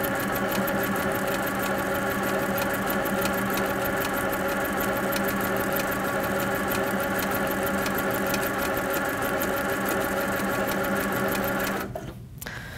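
An HQ Sweet Sixteen sit-down quilting machine stitches micro quilting at a slow speed setting, a steady, close, fast-pulsing mechanical hum that runs throughout and stops abruptly near the end.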